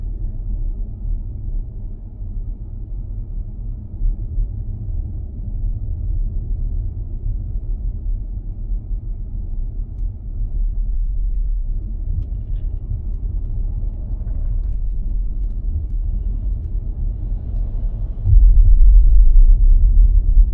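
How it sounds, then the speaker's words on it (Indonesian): BMW i5 Touring cabin while rolling over a speed bump at 30 km/h, a loud steady low road rumble throughout with a heavier thump near the end, no talk. "Kita coba speed breaker kecepatan 30 km/jam."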